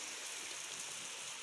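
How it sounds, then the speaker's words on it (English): Steady rain falls in Pune district, a continuous even hiss of drops with no pauses and no voices. "You can see there is rain. You can hear sound."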